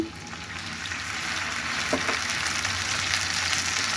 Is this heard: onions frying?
yes